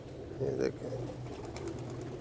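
Soft, low coos from Teddy-breed pigeons rise briefly near the start, then fade under a steady low hum and faint background chatter.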